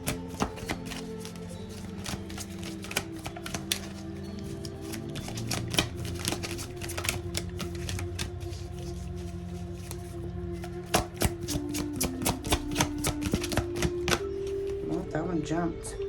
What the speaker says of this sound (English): Let's go ahead and pull some more cards.